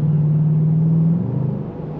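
A Dodge Durango R/T's JBA axle-back exhaust rumbles in a low, throaty tone that swells briefly to about 3,000 RPM in sport mode and then eases off, heard from inside the vehicle.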